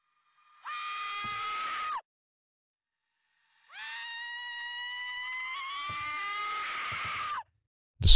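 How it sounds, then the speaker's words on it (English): In the horror video game Sad Satan, a little girl NPC screams at the player when approached, two long shrill sustained screams separated by silence, the second one longer, ending with a sharp burst. "a little girl, who will scream at the player when approached."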